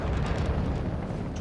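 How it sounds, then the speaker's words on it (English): A deep, rumbling explosion in a video game fills the moment with a loud, sustained roar of low boom and crackle, no talk over it. "when I heard the explosion"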